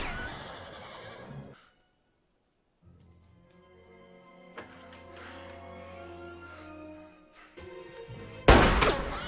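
Horses in the 2003 Western film Open Range, with an early whinny, then a long stretch of low drone and rumble, scattered sharp thuds, and a loud burst at the end.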